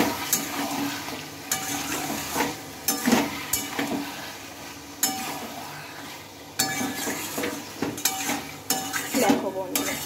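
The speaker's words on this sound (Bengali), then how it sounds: "ময়দা কুচিটা দিয়ে নিলাম, দিয়ে এবার এটা আমি ভালোভাবে চিকেনের সাথে মিশিয়ে নেব।" Chicken and flour are stirred in a pan with a utensil, giving repeated scraping and clinking strokes over a soft, continuous sizzle, close and fairly loud.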